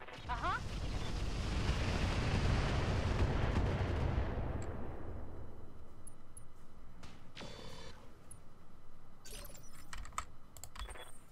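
Mech weapons fire in the BattleTech game with the Roguetech mod: a dense, loud roar of launches and blasts that fades over several seconds into scattered impacts and clicks, with no talk over it.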